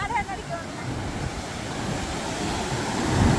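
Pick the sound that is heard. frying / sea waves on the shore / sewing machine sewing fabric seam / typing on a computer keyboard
sea waves on the shore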